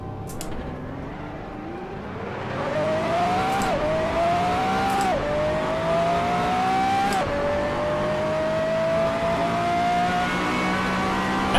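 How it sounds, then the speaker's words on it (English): A race car engine in the racing game Assetto Corsa revs hard and climbs through several gear shifts, its rising whine dropping at each change, loud and steady throughout. "If I'm revving my engine, I can't hear."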